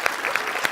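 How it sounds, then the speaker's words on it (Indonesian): Studio audience applauding on a comedy quiz game show, a short dense burst of clapping with sharp claps standing out, fairly close and loud. "kita kasih tepuk tangan"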